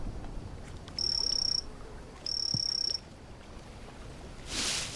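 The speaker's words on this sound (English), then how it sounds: "We've got the frogs hanging out." Frogs in the jungle survival game Green Hell give two sustained, shrill trilling croaks, each about half a second to a second long, over a quiet, hissing jungle ambience, followed by a brief soft rustle.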